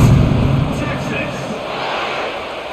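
A large stadium crowd roars as a steady, loud wash of cheering and noise in EA College Football 25, during a Sam Houston at Texas game just before a kickoff.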